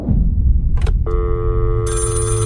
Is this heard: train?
no